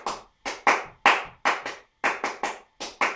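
Hand claps in a steady repeated rhythmic pattern, crisp close claps grouped in short bursts with brief gaps between groups.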